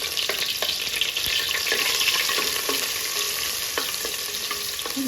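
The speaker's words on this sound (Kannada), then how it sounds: "ಈಗ ನಾನಿವತ್ತು ಮಣ್ಣಿನ ಪಾತ್ರೆಯಲ್ಲಿ ಮಾಡ್ತಾ ಇದ್ದೀನಿ" A tempering sizzles in coconut oil in a clay pot for a Malnad-style sambar, with a steady loud hiss and occasional light clicks of stirring throughout.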